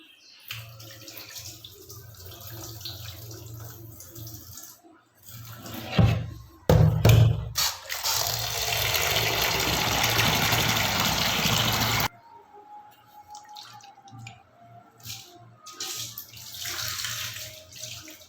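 Water gushes loudly from a tap for several seconds, splashing into a vessel of lentils with some clunks, then stops, leaving quieter handling sounds and a low hum.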